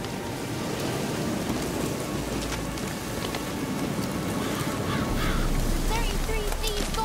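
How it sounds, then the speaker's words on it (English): Rain in The Witcher 3 video game: a steady, dense patter of rainfall with a few faint bird calls, continuous and fairly loud throughout. "Looks like rain."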